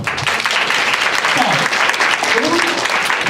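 Audience applause fills a school chapel service at a foreign language high school, steady dense clapping throughout with faint voices and a brief murmur underneath.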